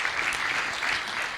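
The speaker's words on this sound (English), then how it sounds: "give a very big round of applause to all of the participants of the discussion here" Steady applause from an audience, an even wash of many hands clapping at close range with no pauses.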